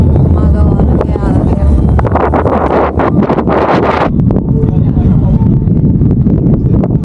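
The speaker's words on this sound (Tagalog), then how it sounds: "Ang lakas nga ng hangin, konti na lang ako ililiparin na." Strong, roaring wind in Malta buffets the microphone continuously, with gusty rumbling and rustling throughout, loud and close.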